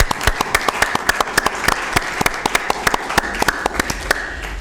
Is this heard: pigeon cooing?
no